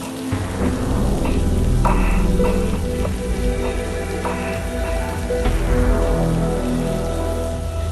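Heavy rain pours continuously, a dense steady hiss with scattered louder splashes throughout.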